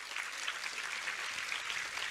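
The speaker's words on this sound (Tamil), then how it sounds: "மிகப்பெரிய கைத்தட்டல்களை கொடுங்க" Audience clapping at a student quiz award ceremony, a dense, even burst of applause from a crowd that holds steady throughout without any voices.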